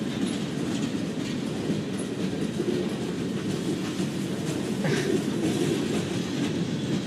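A Norfolk Southern freight train rolls past on the tracks, a continuous loud rumble of wheels with faint clickety-clack and occasional squeals, close by and with no voices.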